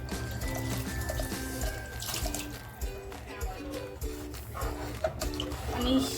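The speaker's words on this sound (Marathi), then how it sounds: "पाणी टाकते मी" Water poured into rice cooking in a pressure cooker, a soft continuous pouring and splashing heard faintly beneath a steady musical background.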